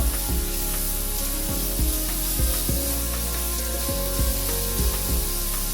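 Cooked chana dal stirred into a cardamom-spiced masala in a pan, with a steady hiss and sizzle and repeated scraping strokes of a spoon against the pan, close and continuous.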